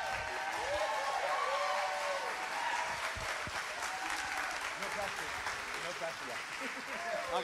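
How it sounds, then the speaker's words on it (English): A church congregation stands and applauds a guest speaker, giving sustained, fairly distant clapping with scattered cheers and voices mixed in throughout. "can we all please stand and give Anthony an amazing round of applause?"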